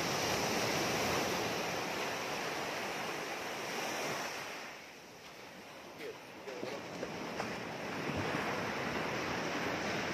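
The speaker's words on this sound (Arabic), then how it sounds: "شواطئ مطروح دي من أنظف الشواطئ في مصر كلها" Surf rolls onto a public beach at Marsa Matruh, Egypt, in a continuous wash of breaking waves. Wind buffets the microphone, and the roar dips briefly midway before swelling again.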